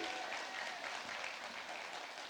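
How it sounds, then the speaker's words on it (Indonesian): A crowd at an entrepreneurship community event gives sustained applause, a steady, fairly distant roar of many hands clapping that carries on evenly without pause. "Sekali lagi dong tepuk tangan yang luar biasa buat mereka"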